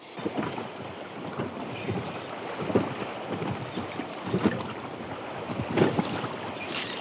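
Steady gusty wind roars against the microphone with water lapping underneath while perch fishing, rising and falling in broad swells with no voices.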